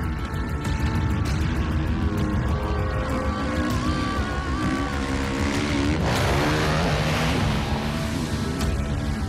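A car roars steadily through a Call of Duty Modern Warfare III chase: a dense, loud engine drone with rushing noise, constant and unbroken throughout.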